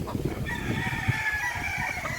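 A straight-combed young gamecock (stag) crows in a long, drawn-out call over a steady background noise, close and clear.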